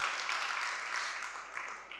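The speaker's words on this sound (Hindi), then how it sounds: "तालियां बजाओ स्वयं के लिए," Applause from an audience at a religious sermon, many hands clapping together in a dense, steady wash that gently fades toward the end.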